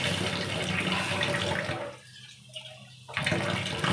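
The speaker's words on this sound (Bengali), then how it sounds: "সাথে কিন্তু আবার আমি একটু জল দেব" Water splashes and runs steadily into a pot of dal, close and full, then breaks off into near silence with a faint trickle before the kitchen noise returns.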